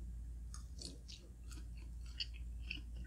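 Sausage links being chewed at a breakfast mukbang, quiet close-up mouth sounds with a few soft crunchy bites and wet smacks over a low steady hum, no talking.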